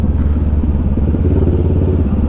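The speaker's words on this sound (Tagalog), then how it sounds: "Pero ang gaan talaga ng motor." A Kawasaki Ninja 650 motorcycle is ridden with its engine droning steadily and loud up close, a constant throbbing hum with light rattling over it.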